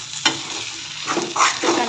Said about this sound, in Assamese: শুকানকৈ ভাজি ল'লোঁ।